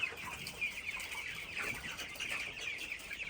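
Chickens cluck continuously in a broiler and chick brooding setup, a dense overlapping chorus of soft, close calls with no speech.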